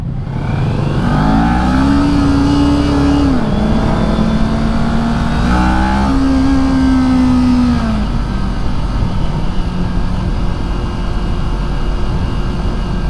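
A 2023 Kawasaki Ninja 400 motorcycle engine rises in pitch under acceleration, drops back briefly, then climbs again before settling into a steady loud drone, heard up close with no talking.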